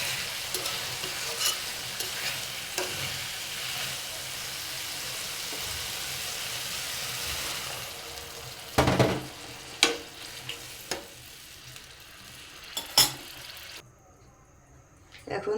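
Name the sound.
stirring frying potatoes and data stems in a pan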